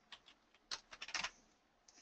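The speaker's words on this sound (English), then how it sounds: "So as I start typing in this missed call," Typing on a computer keyboard for a quick search in recruiting software: irregular bursts of close, light key clicks with short pauses between runs, ending in a sharper tap.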